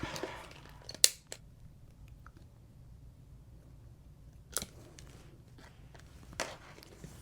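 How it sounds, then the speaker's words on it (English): Scissors give a few sharp, close snips into zipper tape while a bucket bag is being sewn, set apart by quiet pauses in a hushed room, with no talking. "putting a small snip on the side that has the furthest out tooth"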